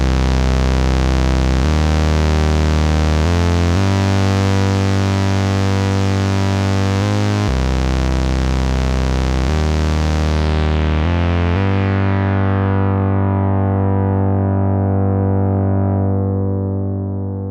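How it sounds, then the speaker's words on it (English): Moogerfooger ClusterFlux chorus thickening a distorted, sustained synth-like tone, playing a slow sequence of held chords, loud and dense, with the sound fading out at the end. "So let's add some chorus."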